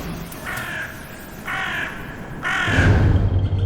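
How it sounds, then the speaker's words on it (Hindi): Crows caw at night in three harsh, drawn-out calls spaced about a second apart. They are loud and close, and a low rumble rises under the last call. "रात में कौवे का का का ऐसा चीख रहे थे।"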